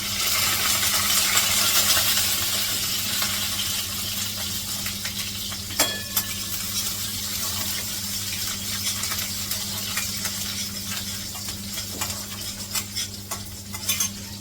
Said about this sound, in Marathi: तेल तापलेलं आहे थोडंसं जिरं गॅस फास्ट केलाय लसूण कापून ठेवलाय टाकते